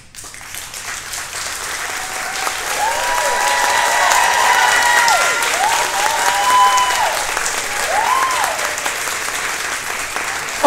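Sustained audience applause for a Shakespeare ensemble at an annual cocktail benefit, dense clapping from a crowd that swells and holds loudly for about ten seconds, with a few whoops and cheers rising above it.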